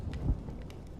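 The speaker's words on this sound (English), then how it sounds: "You're lucky to have found shelter from the rain." Rain with a low thunder rumble in the video game Honkai: Star Rail, a brief dull swell of thunder rising and fading within a second over a steady rain hiss.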